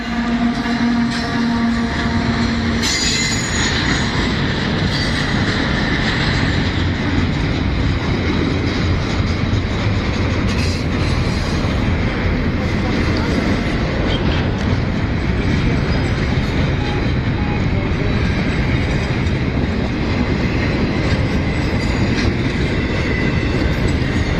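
Loud, continuous rumble and clatter of two trains rolling past close by in the same direction in Dorval, Montreal, with steady wheel noise and a brief squeal early on, no talking.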